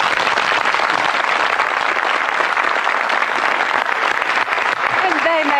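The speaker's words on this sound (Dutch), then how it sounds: "Applaus voor Nathalie." A studio audience at a 1984 Dutch television show claps in loud, continuous applause for a young girl, a dense wash of hand claps lasting several seconds.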